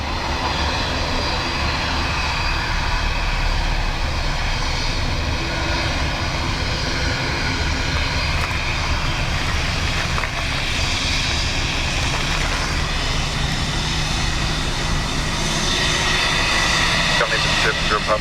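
Jet engine roar from an airliner at Dublin Airport on a windy, wet day: a steady, loud broadband rumble holds for the whole stretch, with a voice talking faintly over it.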